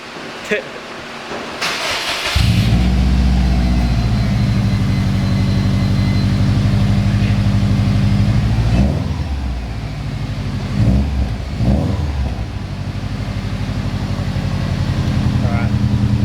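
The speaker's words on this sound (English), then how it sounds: "So we're going to start the car in a second." A Subaru WRX with a FAF turbo-back exhaust is cranked and fires up, settling into a loud, steady, deep idle with a few brief revs, while people talk nearby.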